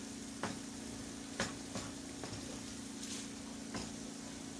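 Carrots and potatoes in a meat pie filling being stirred in a pan: a low background sizzle with a steady hum, broken by several soft scraping strokes of a utensil at uneven intervals, fairly quiet, no speech.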